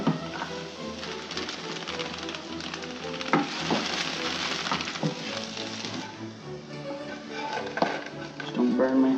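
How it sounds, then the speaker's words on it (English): Chopped garlic sizzles steadily in oil in a frying pan while cooking a spinach and ricotta pizza, with a dense, continuous crackle close up and occasional clinks of a utensil against the pan. "I always like watching the garlic sizzle."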